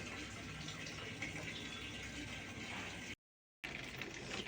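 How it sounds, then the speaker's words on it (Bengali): Tap water runs steadily into a container at home, a loud, even gushing stream that cuts out for a moment and then resumes, with no talk over it. "এই দেখো জল ভরছি"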